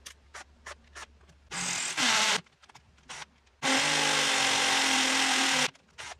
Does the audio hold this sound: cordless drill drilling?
yes